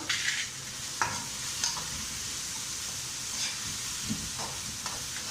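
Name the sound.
stirring salt and whole spices in a frying pan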